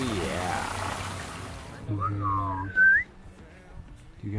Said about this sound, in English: Do you guys respond to whistles?